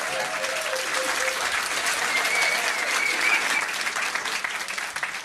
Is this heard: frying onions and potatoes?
no